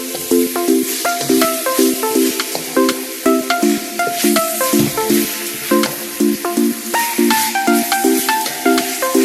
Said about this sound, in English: Now I'm going to mix in the garlic with the beef.